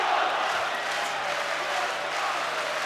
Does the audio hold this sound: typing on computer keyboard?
no